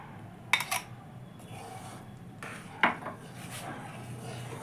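A spoon scrapes and clinks against a metal pot while mango pulp is stirred into phirni, two sharp clatters standing out over quiet, soft rubbing in a home kitchen.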